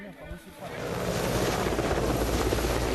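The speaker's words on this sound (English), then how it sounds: "Helicopters deployed troops onto this strategic crossing 6 miles from Sloviansk." Military helicopters deploying troops near a bridge crossing outside Sloviansk, Ukraine, make a loud, continuous rotor and engine roar that swells in after a quieter opening and holds steady.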